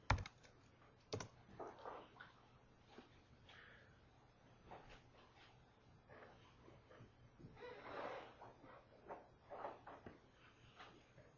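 Keys clack on a computer keyboard as commands are entered in a Cadence IC design environment. The keystrokes come in close, irregular bursts over a low steady hum, with one sharper knock near the start.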